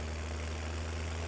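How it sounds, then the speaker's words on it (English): A tractor engine idles in the farming video game Farming Simulator 17, a steady low droning hum with a constant even loudness and no talk over it. "I just want to watch you drive the derpy tractor."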